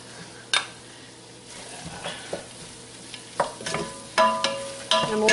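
Chopped onion and garlic sautéing with Italian sausage in a pan make a soft steady sizzle, broken by several sharp spoon scrapes and clinks against the pan.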